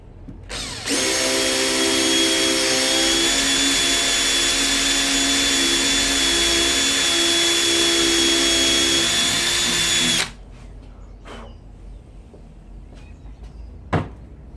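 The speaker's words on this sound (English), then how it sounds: "we need to drill a hole for the wires as well, so we can do that with the 3mm" A power drill whines steadily for about nine seconds while boring a 3mm pilot hole for trailer light wiring on a motorcycle trailer, then cuts off, leaving faint clicks and a sharp tap.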